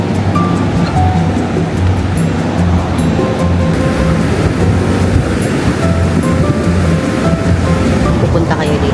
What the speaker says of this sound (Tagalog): Yan yung waves